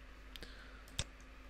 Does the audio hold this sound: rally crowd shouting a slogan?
no